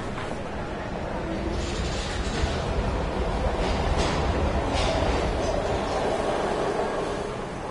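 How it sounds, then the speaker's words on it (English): A train in the video game Heavy Rain rumbles steadily throughout, a loud continuous rolling roar with faint rhythmic clatter of wheels on rails and no talking. "We've got to get on that train, Ethan."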